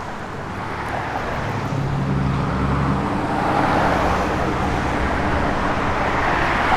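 A 1966 Plymouth Satellite Hemi with a 3-inch Flowmaster H-pipe dual exhaust rumbles steadily, a deep continuous engine drone that swells slightly midway, with some wind noise over it.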